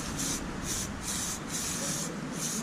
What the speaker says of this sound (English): Gotta keep shaking continuously so it keeps spraying correctly.